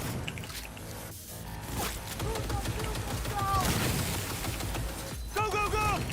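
Dense bursts of gunfire in the video game Cyberpunk, continuous rattling shots mixed with shouted voices and game effects, loud and sustained across the whole stretch.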